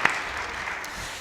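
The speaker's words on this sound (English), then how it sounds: "If we could give her a bit of a round of applause." A symposium audience gives a round of applause, soft and fairly distant, a continuous patter of many hands with one sharper clap near the start.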